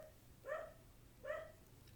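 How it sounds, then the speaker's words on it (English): A dog barks twice indoors at a moderate distance, two short yips spaced under a second apart over quiet room tone. "I'm sorry about my dog."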